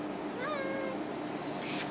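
A house cat gives a single clear, rising-and-falling meow at close range over a quiet room hum, with no talk.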